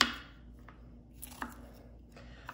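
Food cut up with a knife to fit into a bowl, a few soft, faint chops and taps spaced irregularly, heard alone in a quiet room.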